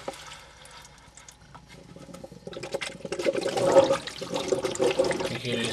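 A Rena XP1 canister filter sucks water from a fish tank with gurgling, rushing flow that builds from quiet trickles to a louder churning surge.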